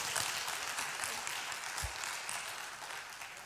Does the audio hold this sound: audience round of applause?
yes